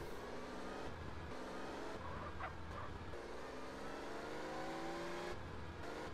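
A car drives in a video game on a road-test route, with a continuous engine drone that shifts pitch as it revs and accelerates, steady and moderately loud.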